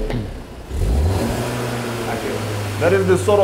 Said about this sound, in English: Please rev it for us.